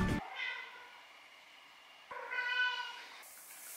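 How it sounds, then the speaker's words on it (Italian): Two drawn-out cat meows, each a second or so long, separated by a short pause, fairly close and clear with no talking. "Il gatto."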